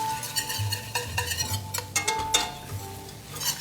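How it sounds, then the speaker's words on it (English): A thin wire whisk stirs roux in a pan up close, making quick rhythmic metallic scrapes and clicks over a faint bubbling sizzle. "And for stuff like this, you wanna use a thin wire whisk."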